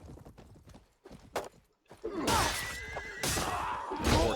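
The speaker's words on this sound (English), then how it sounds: "Horse." A horse in the video game Full Invasion 2 gives a loud whinny over rapid clip-clopping hooves, following a few sparse knocks and quiet moments.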